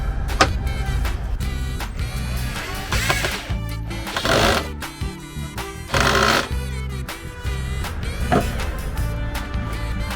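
A Makita cordless drill driver whirs in repeated bursts while screwing camper van cabinets together, its motor revving up and down between short pauses, close and fairly loud with no talking.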